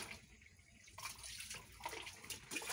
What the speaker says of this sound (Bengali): বাথরুম ধুচ্ছি, খুব ময়লা হয়ে গেছে।